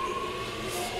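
A train pulling out of Epping station, a steady close rumble of wheels and motors with a faint high whine, brief and continuous, no talking.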